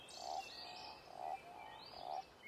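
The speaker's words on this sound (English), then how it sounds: "The common toad is the largest toad species in the Gargano National Park." A common toad calls in a karst valley pond lined with dry stone walls in Gargano National Park, giving three short, evenly spaced croaks close by, with birdsong faintly behind.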